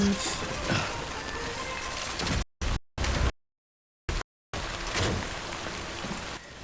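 Steady rain hisses across the whole scene in the Death Stranding video game, falling on a vehicle while driving, with brief dropouts of silence midway; loud, continuous and close, with no talking.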